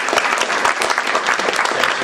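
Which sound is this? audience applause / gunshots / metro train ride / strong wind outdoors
audience applause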